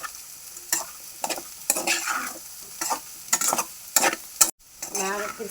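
A spatula scrapes and stirs fried potatoes coated in chili powder in a pan, with crisp sizzling under irregular stirring strokes, close by and without voices.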